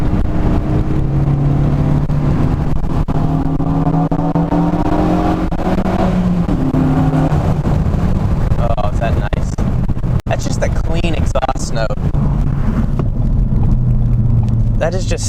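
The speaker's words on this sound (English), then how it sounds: "That is just such a clean exhaust note." A Ford Focus ST accelerates inside a tunnel, its exhaust note a loud, sustained drone that rises in pitch and echoes off the walls, with brief talk partway through.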